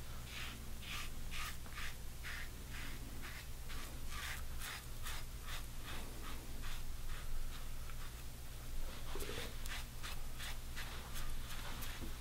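Rockwell 6C adjustable safety razor cutting a sideburn, a steady series of close, soft scraping strokes in a quick rhythm over a constant low hum.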